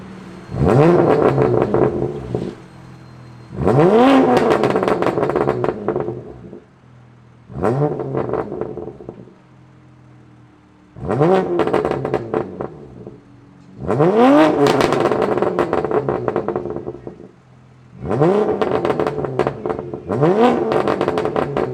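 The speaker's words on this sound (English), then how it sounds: "We're gonna get some exhaust clips of how it sounds before the new setup." A BMW F80 M3 engine revs hard six times through its stock exhaust, each burst rising in pitch, then falling back to a low idle rumble between pulls.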